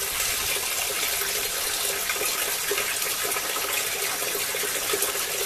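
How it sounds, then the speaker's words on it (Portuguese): Water pours continuously from a small covered street spring spout, a steady, close splashing gush with no pauses. "Olha o barulho da água."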